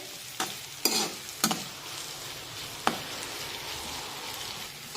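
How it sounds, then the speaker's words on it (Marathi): Tomato and onion fry in a pan for a leftover chapati chivda under a steady, close sizzle, with a few sharp spatula scrapes and taps of stirring. "आणि टोमॅटो सुद्धा आपल्याला मऊ शिजून घ्यायचा आहे"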